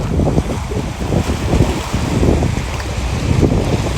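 Strong wind buffets the microphone at a seaside lighthouse park on the rocks in West Vancouver, a steady roaring rumble with gusty swells and no speech.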